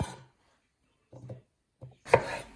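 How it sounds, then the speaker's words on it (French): A knife cuts melon into small pieces on a board, giving a few soft, separate thuds and then one sharper, louder chop at the end, close and quiet with no talking. "je coupe le reste du melon en petits morceaux pour pouvoir le mixer plus facilement ensuite"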